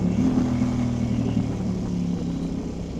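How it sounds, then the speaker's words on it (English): Engine of a Ducati Desmosedici RR motorcycle pulling away in first gear, a loud, close mid-pitched growl that holds steady and then eases slightly over a few seconds. "Pulling away, the clutch is a bit raunchy"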